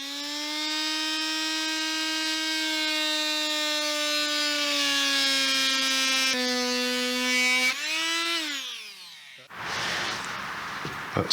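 A power saw blade plunge-cuts down through a tongue-and-groove floorboard on a 122-year-old Victorian porch, a loud sustained whine that holds steady, dips and bends in pitch under load, then stops and gives way to a short burst of cutting noise.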